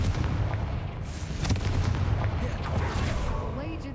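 Booming blasts of the Confringo explosion spell in a wizarding video game, a heavy rumbling burst with sharp cracks layered over it, close and loud across four seconds, with game noise and a voice mixed in.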